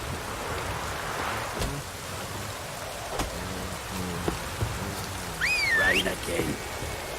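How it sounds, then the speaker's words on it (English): Steady rain patters throughout in The Witcher 3 video game, a constant wash of drops with a few sharper taps and a rising whistle-like tone near the end. "Rain again."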